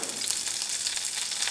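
Curry leaves sizzling in hot oil, a dense bright crackling hiss close up, continuous and fairly loud with no voices.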